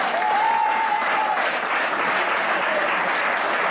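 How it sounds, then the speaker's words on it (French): An audience applauds to welcome a guest at a French civic gathering, with dense, steady clapping at full strength throughout and a faint voice or tone showing briefly early on. "Je vous demande de l'accueillir sous vos applaudissements."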